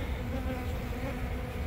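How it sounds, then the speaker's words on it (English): A dense, loud swarm of honey bees buzzing close by as they are dumped from a vacuum catchment into a box, a continuous rough hum with no pauses. "I'm about to dump the bees from the vacuum catchment into my box"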